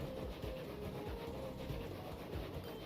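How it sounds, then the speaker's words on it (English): A steam-era locomotive from the Transport Fever 2 railway game rumbles along at a distance, giving a faint, steady rolling drone with soft rhythmic clatter of wheels on track and no talking. "Another locomotive."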